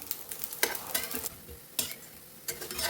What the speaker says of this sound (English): Let's fry them a second time.